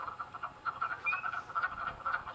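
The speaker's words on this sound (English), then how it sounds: "You hear wood frogs and then some peepers." Wood frogs and spring peepers call at a spring breeding pool, making a dense, steady chorus of clucking croaks with a shrill peep rising above it, close and continuous, with no talking.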